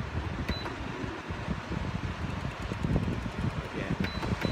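An Astina evaporative air cooler fan running in an apartment, giving a steady, broad whooshing airflow hiss at close range with faint clicks, and no speech over it.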